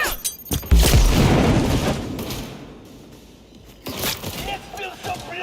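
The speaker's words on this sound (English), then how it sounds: "Grenade! On the ground!" In a video game, a grenade blast lands as a heavy deep boom with crackling debris, followed by scattered pops and shouting voices amid the combat.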